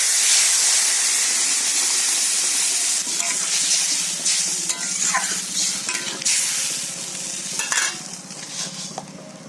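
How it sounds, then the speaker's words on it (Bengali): Water poured into a pan of sizzling mourola fish curry sets off a loud, steady hiss that gradually softens into bubbling, with a few stirring scrapes along the way and no talking. "দিয়ে দেবো জল"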